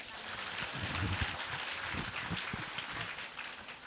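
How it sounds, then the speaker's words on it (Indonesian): A large crowd of university students claps steadily at a gathering in Indonesia, a dense, continuous patter of hands that fills the room from start to finish. "Muhajir Effendi tepuk tangan dulu"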